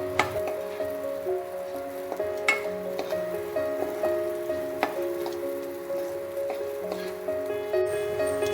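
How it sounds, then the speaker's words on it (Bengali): Ingredients for orange pulao fry and get stirred in a pan, giving a steady close sizzle with small scraping knocks from the stirring, no talk. "একদম হালকা করে একটু নেড়ে চেড়ে ভেজে নেব"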